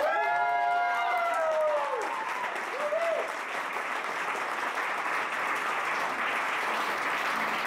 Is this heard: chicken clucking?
no